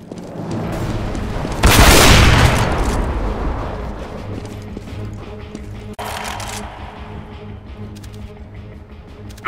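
An incendiary fire grenade thrown in the Counter-Strike video game bursts with a loud roaring whoosh that slowly fades, followed a few seconds later by a second, smaller burst.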